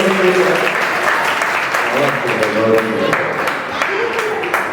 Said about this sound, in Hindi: जोरदार ताली सम्मान